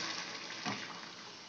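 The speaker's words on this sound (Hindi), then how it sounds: "400 ml पानी में इसमें डाल रही हूँ" About 400 ml of water is poured into a pan of potato and chickpea curry, a soft, steady splashing rush that lasts the whole moment.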